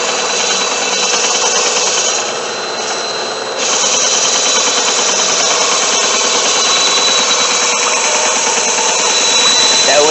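A power tool cuts through wood just off a marked line, a loud, sustained high-pitched whine with a gritty buzzing texture, close and continuous with a brief dip in pitch and level near the start.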